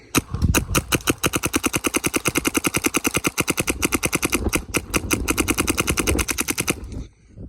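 A DLX Luxe Idol paintball marker firing brand new, low-quality paint, a loud close string of very fast, evenly spaced pops that runs continuously for about seven seconds before stopping abruptly.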